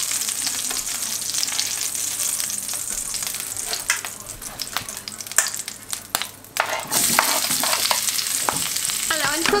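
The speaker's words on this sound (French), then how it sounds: "je vais mettre mes oignons pour les faire fondre et dorer un tout petit peu" Onions frying and browning in a pan give a steady close sizzle, broken by stirring clatter and scrapes, and the sizzle grows louder and fuller toward the end.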